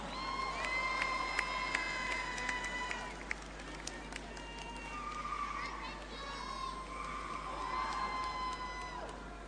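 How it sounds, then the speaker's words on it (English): A pageant audience cheers, shouts and whoops for a contestant named first runner-up. The crowd noise is steady and fairly distant and stays up for the whole stretch. "A round of applause for Miss Tonga"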